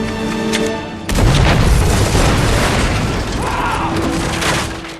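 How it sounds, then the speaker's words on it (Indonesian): A time bomb planted at a Japanese prisoner-of-war camp detonates with a loud, deep boom about a second in, followed by a long rumbling roar and scattered debris that fills the rest of the moment. "akhirnya bom yang sudah dipasang Pajota pun akhirnya meledak sesuai dengan waktu yang sudah ia tentukan."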